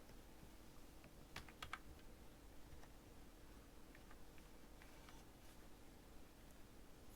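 Typing on a laptop keyboard, faint scattered key clicks with a couple of quick bursts over a quiet room background, no talking.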